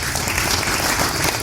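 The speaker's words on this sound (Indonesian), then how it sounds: "Tepuk tangan buat beliau ya." Dense applause from a seated audience at a community civic outreach gathering, loud, continuous and close, lasting the whole moment without speech.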